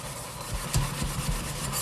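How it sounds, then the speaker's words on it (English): Scrubbing a cooking pot crusted from ugali, a short stretch of coarse rasping strokes, moderately loud and close, with no voices. "And you keep scrubbing."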